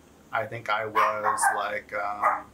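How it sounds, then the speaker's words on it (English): Someone talks close up while a dog barks and yips intermittently, the barks mixed in under and between his words. "Sorry about the dog, you hear them in the background every now and again."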